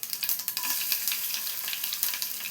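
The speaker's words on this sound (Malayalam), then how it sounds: "ഈ സമയം 5 വെളുത്തുള്ളി ചെറുതാക്കി കട്ട് ചെയ്ത് വെച്ച് ചേർത്ത് കൊടുക്കാം" Garlic fries in hot oil with popped mustard seeds for a dal curry, a close, steady crackling sizzle with sharp little spits and pops that keeps going without any voices.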